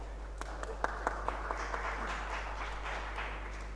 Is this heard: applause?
yes